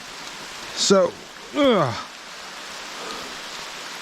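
Light rain falling steadily in the forest during a hike to a waterfall in North Carolina, a soft even hiss throughout, with a person talking briefly over it.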